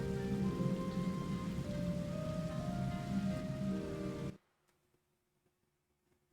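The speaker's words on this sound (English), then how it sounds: "It has been raining constantly." Steady rain patters on a surface at a moderate distance for about four seconds, then cuts out into near silence.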